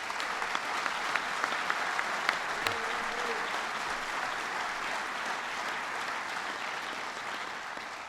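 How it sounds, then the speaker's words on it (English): Sustained audience applause fills a hall during a governor's announcement event, dense steady clapping from a crowd lasting the whole stretch, with a few sharper claps and faint voices underneath. "Let's give them a round of applause."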